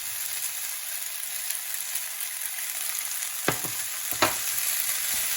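Ham, vegetables and spaghetti noodles stir-frying in a hot pan, a steady close sizzle with two sharp scraping stirs near the end.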